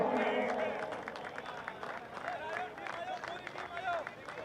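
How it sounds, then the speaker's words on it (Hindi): A crowd claps at the prize ceremony of a night cricket final, with steady applause mixed with the murmur of voices and someone talking over it. "तो एक बार जोरदार तालियां"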